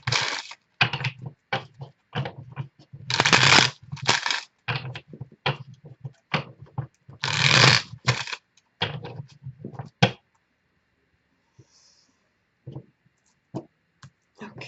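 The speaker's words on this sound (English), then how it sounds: "let me just shuffle these before I get any cards on the table." A deck of Sun and Moon Tarot cards being shuffled close by, with repeated bursts of riffling and flicking in an uneven rhythm, longer riffles standing out, then the handling stops and near-silence follows.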